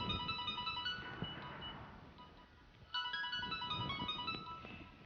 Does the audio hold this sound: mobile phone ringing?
yes